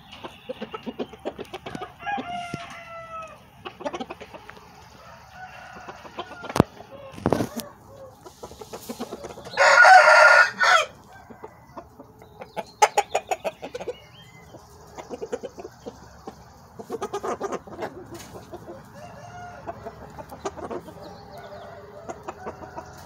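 Chickens cluck on and off for the whole stretch, with a rooster's crow bursting out loudly near the middle over scattered softer farmyard noises.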